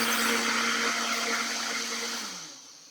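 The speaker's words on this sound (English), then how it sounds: "just going to start grinding these up." Electric grinder whirring as it grinds quinoa, a loud continuous buzzing roar with a steady hum underneath that slowly winds down toward the end.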